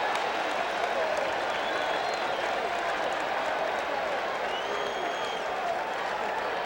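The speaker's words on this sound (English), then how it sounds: "Amidst the roar of the crowd" A dense, steady roar from a large baseball crowd at a World Series game rolls on without a break, loud and diffuse, with scattered clapping and distant cheering mixed in.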